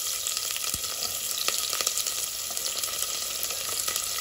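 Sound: onions frying in hot oil with spices for biryani

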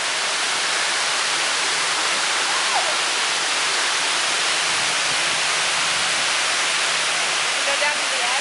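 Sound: water cascading at the Houston Water Wall

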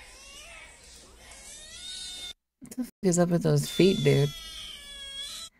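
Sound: cat meowing

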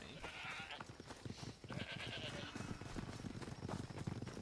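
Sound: goats bleating in a video game

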